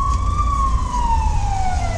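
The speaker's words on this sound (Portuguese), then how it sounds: "Ambulância." Ambulance siren heard from a car in city traffic, a loud wailing tone that slowly falls in pitch as it passes, over steady road rumble.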